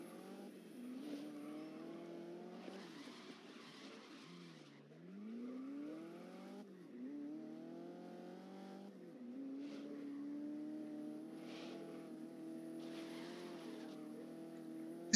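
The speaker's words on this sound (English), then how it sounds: "This car is fast, bro." A fast race car in the video game Grid roars at high revs, its engine pitch climbing through gear shifts, dipping sharply mid-run and rising again, with brief bursts of tire noise over about fifteen seconds.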